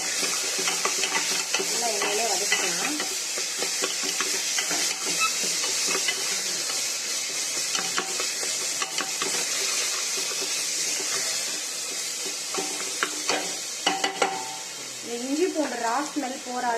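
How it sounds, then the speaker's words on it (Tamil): Onions with ginger garlic paste sizzle and hiss as they sauté in oil for a Saidapet-style vadacurry, with a spoon stirring through the pan continuously and a brief voice near the end. "இது வந்து நல்லா எண்ணெயிலே வதக்கிக்கலாம்."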